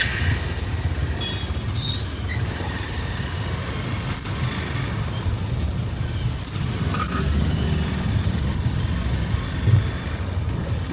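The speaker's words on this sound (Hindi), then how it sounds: "ऑफ रोड बाइक है भाई" An off-road motorbike engine runs steadily on a trail, a continuous mid-low rumble with a few faint clinks and rattles on top, fairly close and without speech.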